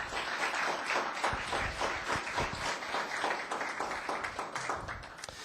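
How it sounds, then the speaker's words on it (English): Audience applauding at a town council meeting, a fairly faint, steady patter of many hands clapping in a room, continuing throughout. "Let's give them one more round of applause."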